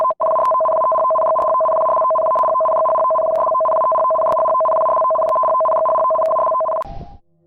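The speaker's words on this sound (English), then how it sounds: "Just imagine hearing a chill-inducing sound coming from your phone" A Japanese tsunami warning alert blares from a phone as a loud, continuous two-tone electronic tone with a faint rapid pulsing, holding steadily for about seven seconds before cutting off abruptly.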